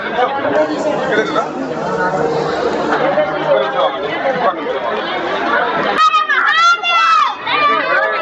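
A dense crowd of pilgrims fills Keesaragutta temple on Shiva Ratri, a loud continuous babble of many voices with shouts and nearby chatter throughout.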